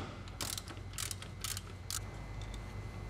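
A ratchet with a 14mm socket loosens a bracket bolt on a Toyota Camry 2.2L engine, clicking in several quick bursts of pawl ticks over a steady low background hum.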